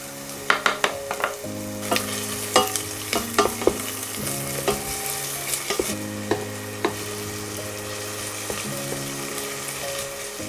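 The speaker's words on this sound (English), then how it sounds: "Once hot, I add garlic and onions and saute them." Garlic and onions sautéing in hot oil in a pan in a village kitchen, a steady sizzle broken by frequent clicking and scraping of a utensil stirring them, close and fairly loud.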